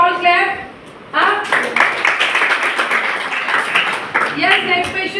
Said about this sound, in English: When necessary, you can all clap.